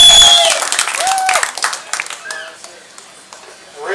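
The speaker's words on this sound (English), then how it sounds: "so give yourself a round of applause for it." Audience at a motocross banquet applauding, a dense burst of clapping that thins into scattered claps and fades, with crowd murmur and voices mixed in.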